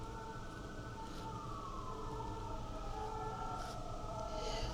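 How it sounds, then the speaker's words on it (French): Emergency sirens wailing far off, faint rising and falling tones drifting over a low background rumble, with no one speaking. "est-ce qu'on a entendu les sirènes là, depuis quelques jours?"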